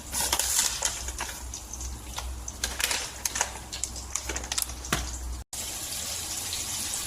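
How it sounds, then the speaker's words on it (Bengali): Nigella seeds spluttering in hot oil for a koi fish curry give a dense crackle of sharp pops and fizz, close and steady, cut by one brief dropout near the end, with no voices. "এখন দিচ্ছি কালো জিরে ফোড়ন"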